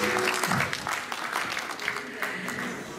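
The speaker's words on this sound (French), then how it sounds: "Une bonne main d'applaudissement pour ma traductrice." Audience applause fills a church ordination service, a few seconds of steady clapping heard at moderate distance, with faint talking mixed in.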